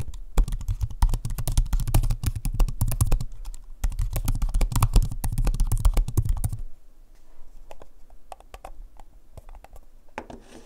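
Fast, steady typing clatters on the thin plastic keyboard of a Lenovo Yoga Book 9i laptop, close and crisp, then slows to a few scattered keystrokes near the end.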